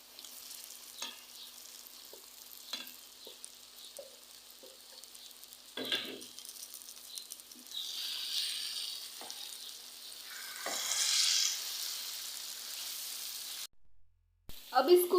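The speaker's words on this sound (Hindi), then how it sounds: "अब इसमें शामिल करेंगे भिंडियाँ जो कि हमने पहले से फ्राई की हुई" Pre-fried okra drops into a masala with fresh cream in a pan, followed by soft sizzling and scattered scraping knocks from stirring, with the frying swelling in bursts near the end.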